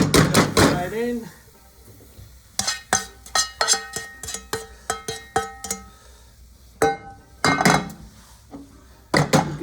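Pasta and spinach tossed with truffle oil in a pot, giving a run of sharp, close clinks and knocks of a utensil against metal in an irregular rhythm, with brief stretches of talk.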